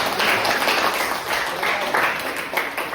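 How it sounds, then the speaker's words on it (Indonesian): A class of students claps for the first group after its presentation on a Quran recitation lesson, a lively, steady patter of many hands filling the room. "kita dulu tepuk tangan buat kelompok 1 ya"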